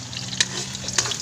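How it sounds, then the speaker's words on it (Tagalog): Chicken feet adobo being stirred in a sautéing pan, a steady frying sizzle with two sharp scrapes of the utensil against the pan, close and alone. "mekos-mekos lang natin guys"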